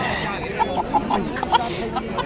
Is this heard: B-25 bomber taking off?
no